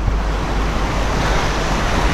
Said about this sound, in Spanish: aquí nos volvemos a encontrar el mismo río que hemos visto antes